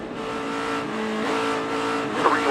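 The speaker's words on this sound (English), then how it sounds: "I want you to ride on board, and I want you to listen to the engine sound." NASCAR Sprint Cup race car engine at Homestead-Miami, heard onboard as a loud sustained roar with shifting pitch and a brief tire-like squeal near the end.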